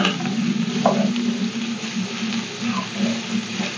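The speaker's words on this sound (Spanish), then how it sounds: "Vamos a sofreír el ajo junto con los chicharroncitos" Garlic frying with pork cracklings in a pan, a steady close sizzle with light stirring throughout.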